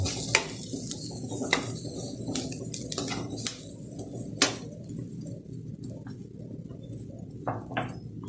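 Dried shrimp stirred in a cooking pot for monggo with papaya and malunggay, sizzling softly with scattered scraping clicks of a utensil against the pot throughout.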